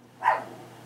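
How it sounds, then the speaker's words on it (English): A single short, moderately faint dog bark sounds in a quiet indoor room. "3 different dog voices."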